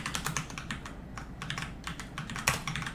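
Rapid typing on a computer keyboard, a steady run of close, crisp key clicks with brief pauses and no talking.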